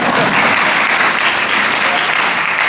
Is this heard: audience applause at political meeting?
yes